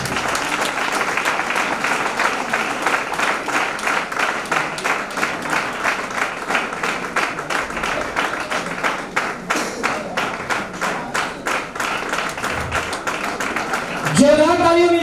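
Sustained audience applause at a promotion ceremony in Begusarai, with dense continuous clapping for about fourteen seconds, swelling louder near the end as a voice cuts in.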